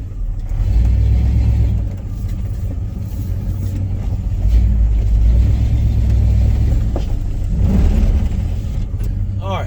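A 1990 Chevy K1500 pickup pulls away in first gear at night, its engine a steady, loud low rumble that swells as it accelerates, with someone talking over it.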